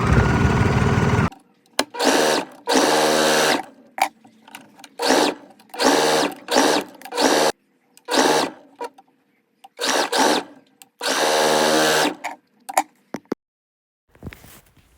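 A sewing machine stitches dress back ties in repeated bursts, some long and some short, with sharp stops and silent pauses between runs.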